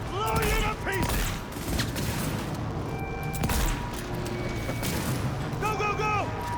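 Gunfire in the video game Cyberpunk 2077 comes as loud rapid bursts and booms mixed with game-character shouting, with the firing continuing through the whole stretch.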